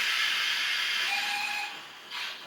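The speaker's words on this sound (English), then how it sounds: "Little whistle." A hissing, breathy steam whistle from a model pannier tank locomotive, sustained and fairly close, tapering off and then giving a brief second puff.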